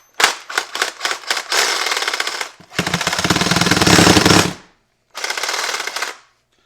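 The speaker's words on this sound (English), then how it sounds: "It's one thing I love about the Ryobi reciprocating saw." A Ryobi reciprocating saw fitted with a wire brush attachment, running in loud, close bursts: several short rapid stutters, then two longer harsh buzzing runs separated by a brief pause.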